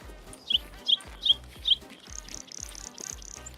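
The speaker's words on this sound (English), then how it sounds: "Those birds are loud as shit." Birds chirping loudly in a video game, four sharp evenly spaced calls followed by a faster run of quieter tweets, close and clear with no talking.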